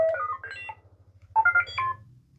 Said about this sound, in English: To me, that sounds just like R2-D2